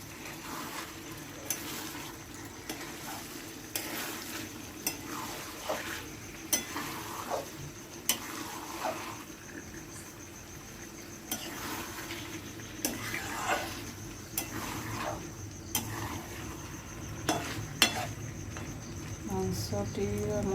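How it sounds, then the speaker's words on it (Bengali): Meat frying with spices in a pan in a Bengali home kitchen, a steady sizzle broken by regular scraping and clinking strokes of a spoon stirring against the pot, with faint voices now and then. "মাংস আর মশলা একসাথে ভালোভাবে মিশিয়ে ভাজা ভাজা হয়ে গেছে"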